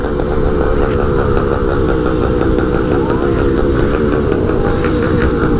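A Shineray motorcycle engine runs steadily and loudly throughout, a continuous throaty drone with little change in pitch, close by.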